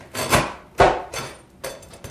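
Roofing nails pried out of asphalt shingles with a wonder bar, giving four sharp woody pops and scrapes at uneven intervals, close and fairly loud, with no talking.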